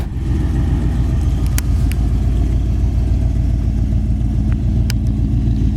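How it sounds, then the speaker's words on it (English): A 1963 Ford Galaxie 500 convertible idles through glass-pack mufflers, a deep, steady burbling exhaust rumble heard close and loud throughout. "Listen to how nice that exhaust sounds, and it's got some glass packs on it"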